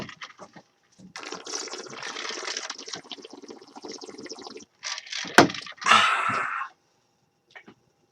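Water bubbles and gurgles through a bong in several short, close bursts, with a louder, more forceful burst near the end and brief quiet gaps in between.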